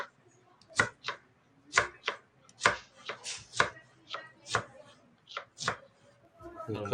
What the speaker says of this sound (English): we're gonna go ahead and cut up our dry ingredients or our non-raw ingredients